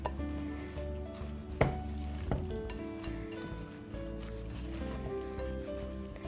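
A spoon stirs a Christmas pudding mixture with mixed spice in a bowl, giving soft scraping and clinking near the mic, with a couple of sharper knocks against the side.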